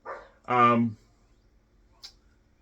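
A dog barks once, loud and close, then a faint click follows in an otherwise quiet room; the bark is heard alone with no talking over it.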